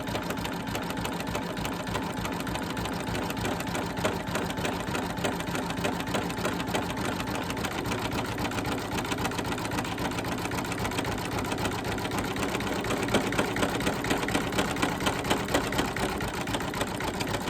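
An embroidery machine stitches through many layers of fabric and over earlier stitching for a continuous stretch, its fast, even needle rhythm loud and close.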